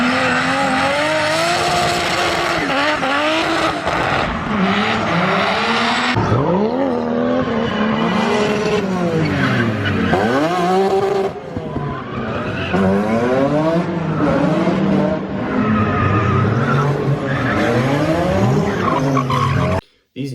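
A BMW E46 drifts with long, loud tire squeals over a revving engine whose pitch sweeps up and down throughout, ending in a sudden cut near the end.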